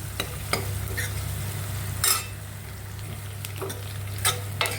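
Ingredients for Vidarbha-style dal bhaji sauté in a pan, a continuous low sizzle with a few sharp spatula scrapes and knocks spaced through it, close by and with no voices.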